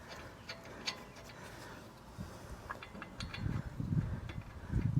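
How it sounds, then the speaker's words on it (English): Lug nuts threaded by hand onto the wheel hub of a 2014 AWD 3.6-litre Dodge Journey, producing small metallic clicks and scraping ticks that grow into a busier, louder rattle of metal toward the end. "I just simply get the lugs started by hand"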